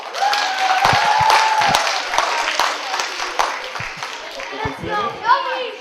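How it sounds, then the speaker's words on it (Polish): A school audience claps after a student presentation on recycling, brisk applause that swells early and then thins into scattered claps, with children's chatter and a voice rising over it toward the end. "Brawa!"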